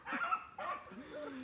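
A hunting dog gives short yipping barks and whines during a rabbit chase, close and fairly quiet, in a brief burst.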